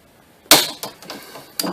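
A vice grip breaks the plastic bushing on a car's sway bar link pin, giving three sharp cracking snaps close up, the first the loudest.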